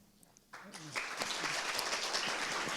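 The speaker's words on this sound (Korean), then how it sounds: "이제 큰 무대로 큰 박수로 서울대학교 지속가능발전연구소의 정혜진 연구교수님을 무대 위로 모시겠습니다" An audience at a data innovation forum breaks into applause after a brief moment of voice, and the clapping swells quickly into a full, sustained ovation.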